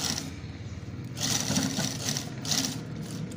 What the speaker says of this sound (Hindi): आखिरी कोने के ऊपर बिल्कुल हमने सिलाई करनी है।